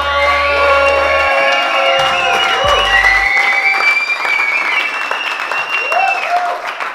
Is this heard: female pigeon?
no